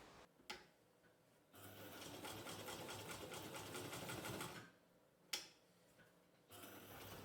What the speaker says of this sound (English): I like to reinforce the strap attachments by using my sewing machine's reverse feature to sew across, back and then forward again.